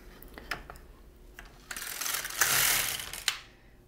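Carriage of an LK-150 knitting machine casting on waste yarn, giving a few sharp mechanical clicks and then a longer sliding, rattling sweep near the end, close and fairly quiet.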